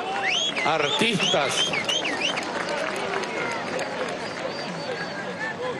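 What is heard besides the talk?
crowd applauding the artists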